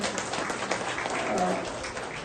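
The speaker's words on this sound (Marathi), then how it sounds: "एक जोरदार टाळ्या आपण देऊया" An audience at a school felicitation ceremony for students' tenth-standard exam success gives a dense burst of clapping that holds steady throughout.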